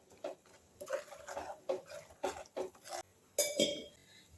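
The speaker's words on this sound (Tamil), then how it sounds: "இதை அப்படியே நல்லா கலக்கி விட்டுக்கோங்க." A spoon scrapes and clinks against a metal pot of potato masala fry in a quick, uneven rhythm, close and fairly quiet.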